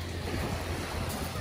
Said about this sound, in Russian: Осеннее море.